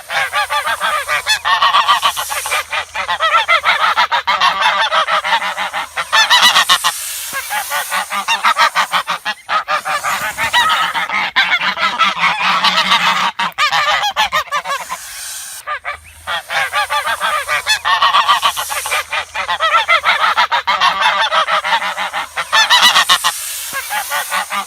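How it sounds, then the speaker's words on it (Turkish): A goose honks loudly and nonstop in harsh, rapid bursts that go on for many seconds with only brief gaps, close and alone. "Goose."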